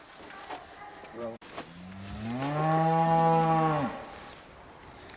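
Cows lowing in an open moorland setting with ferns, one long, loud, drawn-out moo rising and holding for about two seconds after a shorter call, close by with faint background noise.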